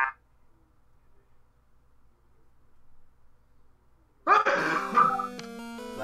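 A single sharp sneeze bursts out of near silence, followed by bright electronic tones from the NES game Wheel of Fortune.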